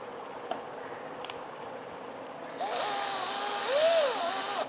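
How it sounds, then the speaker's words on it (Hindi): A drill spins up partway through with a rising, wavering whine while a homemade meat mincer part held in its chuck rattles, after a few faint clicks over background hum. "जब मैंने इसको ड्रिल चक में पकड़ के थोड़ा सा घुमाया ना"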